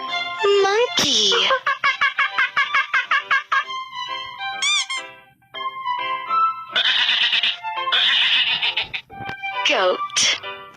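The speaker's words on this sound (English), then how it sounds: "Goat." Goat bleating loudly in a long series of wavering, nasal calls, some short and stuttering, others drawn out, with brief pauses between bursts, close and alone without talk.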